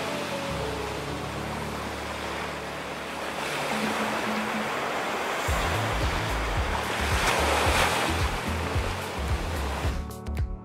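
Ocean surf rolls onto a beach with a broad, rushing wash that swells louder midway, waves breaking close and steady with no voices.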